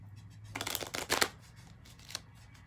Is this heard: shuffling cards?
yes